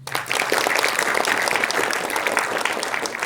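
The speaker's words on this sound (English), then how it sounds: "Can we clap?" Steady applause from an audience, a dense patter of many hands clapping together at fairly close range, holding an even loudness throughout.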